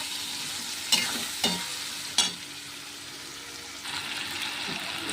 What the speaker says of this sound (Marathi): याच्यामध्ये भगर टाकली आहे हे कलसून घ्यायचं आहे